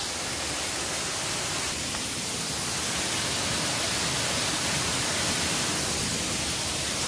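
Abbi Falls at Magajahalli: water pouring down in a steady, loud, unbroken roar that fills the whole clip, with no voices or other sounds.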